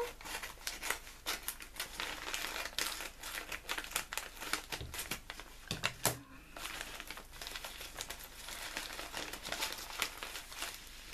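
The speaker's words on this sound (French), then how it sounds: "Alors, le ciseau. Le ciseau pour" Scissors cut open a paper package at close range, a busy run of crisp snips and crinkling paper rustles, fairly quiet, with no talking.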